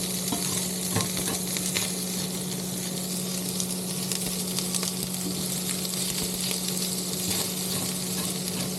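Fried rice sizzles steadily in a pan on an induction cooktop inside an Airstream motorhome, with a constant close frying hiss and light stirring scrapes and no talk.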